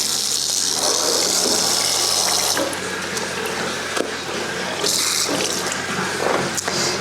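Running water from a sink faucet pours steadily as a synthetic wig is rinsed, with a continuous splashing gush that shifts slightly as the hair is moved under the stream.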